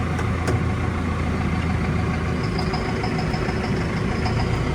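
A Massey Ferguson tractor engine runs steadily and loud up close, a continuous rumbling idle with a faint high whine joining partway as it starts to drive off.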